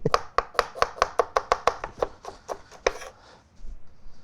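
A knife chops an onion on a cutting board in a quick run of a dozen or so crisp, evenly spaced strikes that slow toward the end and then stop.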